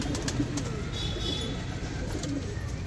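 A Kala Patet pigeon from a breeding pair coos softly amid steady background noise, a few low throaty calls over about three seconds.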